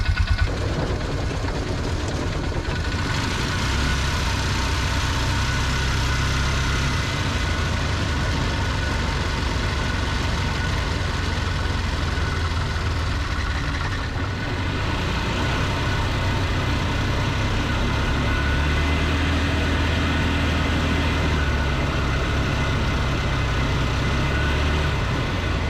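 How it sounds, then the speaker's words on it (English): A Bobcat 3400XL side-by-side utility vehicle (a Polaris Ranger 500) runs with a steady, loud, low engine drone that holds continuously throughout, with no voices. "We're gonna get on the machine and we're gonna just run it up the driveway a couple of times."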